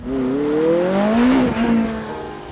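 A McLaren 675LT Longtail sports car drives past with a loud, rising engine note that swells and then fades as it moves away, without talk.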